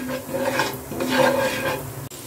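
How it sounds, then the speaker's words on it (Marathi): Potatoes are stirred with dabeli masala in a pan, making close rasping scrapes of a spoon dragging through the mixture in a few uneven strokes, ending with a sharp click. "इथे मी बटाटे ऍड केलेले आहेत, आता हे आपण सर्व मिक्स करून घेऊया"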